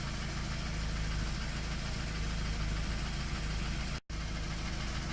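A BMW E30 with an M40 engine runs at a steady, even drone, heard close and continuous with a brief dropout near the end.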